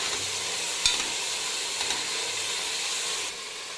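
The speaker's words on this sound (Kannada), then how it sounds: "ಇವಾಗ ಸೊಪ್ಪು ಹಾಕಿದ್ದಾದ್ಮೇಲೆ ಒಂದ್ಸತಿ ಚೆನ್ನಾಗಿ ಫ್ರೈ ಮಾಡ್ಕೊಳ್ಳಿ." Fenugreek and mint leaves fry with tomato in a pan for a biryani masala, giving a constant close sizzling hiss with a couple of brief spoon knocks.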